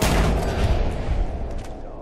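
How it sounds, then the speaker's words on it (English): Rapid automatic gunfire from a weapon in Fallout 4, a dense, continuous rattle of shots that stays loud and steady for the whole stretch without a clear pause. "They act a whole lot like a machine gun. They fire far more quickly."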